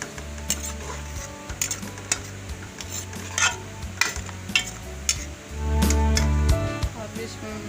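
Onions frying and being stirred in a pan for a cauliflower and chicken masala, soft sizzling under scattered spatula scrapes and clinks, growing louder near the end.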